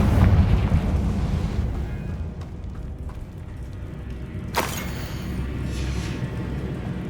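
Confringo spell blast in Hogwarts Legacy, a loud booming explosion at the start that rumbles and fades, followed by another sharp burst midway.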